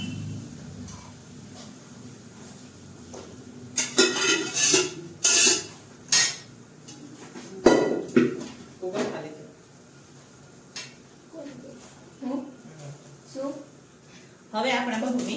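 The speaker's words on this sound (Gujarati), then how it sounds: "હવે આપણે એમાં નાખશું ગુવાર બટેકા." Guar beans and potatoes tipped into a pan and stirred in a home kitchen, a series of clattering, scraping knocks of utensil on metal in bursts, with talk in between.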